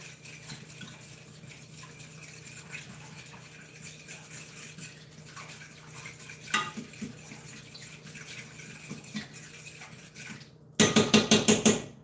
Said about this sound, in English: Get me a little fork. Just going to stir it up, mix it together real good.